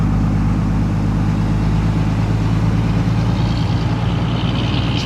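A heavy truck loaded with sand runs with a misfiring engine on a Jamaican road, giving a loud, close, pulsing diesel drone with an uneven beat, steady throughout and with no talk.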